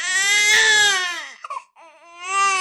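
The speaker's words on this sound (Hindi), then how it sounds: "ठीक 2:13 बजे घर में बच्चे के रोने की आवाज गूंजी।" A baby cries loudly and alone in a wailing, rising cry, breaks off for a moment with a whimpering catch, then cries again. The sound comes from a horror story.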